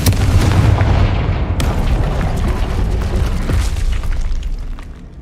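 A Confringo blasting spell going off in Hogwarts Legacy, a loud deep booming explosion that starts at once and rumbles on for several seconds, with scattered crackles as it slowly fades.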